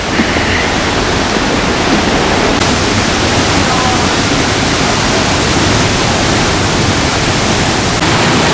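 Loud, steady roar of rushing water at Bushkill Falls, Pennsylvania, a dense continuous wash close by that drowns out everything else.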